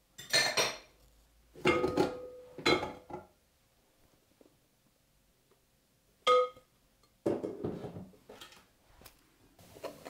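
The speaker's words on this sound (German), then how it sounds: "Nachdem alles fertig geschlagen und gerührt ist, heben wir das Eiweiß unter das Eigelb." A spatula scrapes and clinks against a mixing bowl in short separated bursts while beaten egg whites are folded into an egg yolk mixture, with quiet pauses between strokes.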